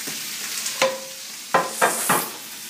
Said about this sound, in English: Let me stir up the ground beef.